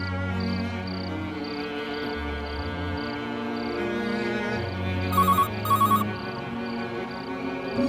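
A repeating electronic phone ring, evenly spaced high beeps pulsing over a steady music bed, with a brief burst of louder tones near the end.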